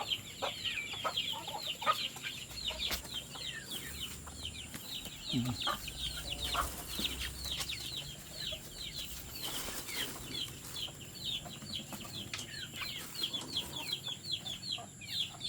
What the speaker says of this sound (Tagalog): Mga sisiw pa rin tayo. Dami natin sisiw.